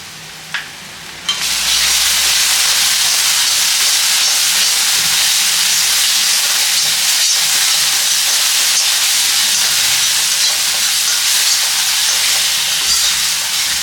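Fish coated with chili powder and salt frying in a pan, a loud, dense, steady sizzle that bursts in after a brief quieter start and hisses on continuously, close by.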